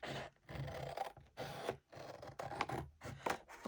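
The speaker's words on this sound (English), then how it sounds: "So now I'm just going to trim off a little bit of the back." Trimming the back edge of a handmade junk journal cover produces quiet, close rasping and rubbing strokes in short bursts separated by brief pauses.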